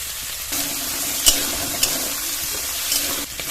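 Prawns fry in hot white oil with a pinch of turmeric, giving a close, even sizzle with a few sharp clinks of a utensil against the pan before the sound drops off near the end.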